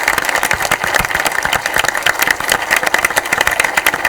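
Loud, dense applause from a large audience fills the courtyard at a televised quiz show finale, a steady wash of clapping with no pauses.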